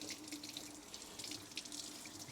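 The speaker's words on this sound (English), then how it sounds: "I'm going to turn on the water" Hot water runs steadily from a tap into a sink while a coffee pot is being cleaned, a continuous hissing splash with faint dripping, close and constant throughout with no talking.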